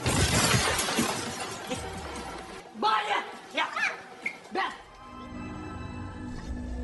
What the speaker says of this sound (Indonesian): dia tidak sengaja menabrak pintu kaca hingga pecah